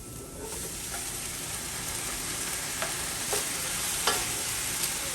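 Ground meat sizzles as it fries with onions in a pan for chili, a steady loud crackling hiss with occasional sharper pops and scraping stirs, no talk.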